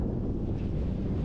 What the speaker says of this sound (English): Here comes the gusts.